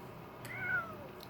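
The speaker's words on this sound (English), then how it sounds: "it must have been the other cat making noise" A single soft cat meow, a short rising-and-falling cry heard faintly against quiet room tone.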